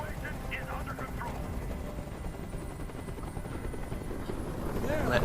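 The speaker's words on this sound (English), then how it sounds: "Tell that helicopter to get out of here." Helicopter rotor thudding steadily overhead in the video game Detroit: Become Human, a continuous low chop that swells slightly toward the end, with voices and game sounds mixed in.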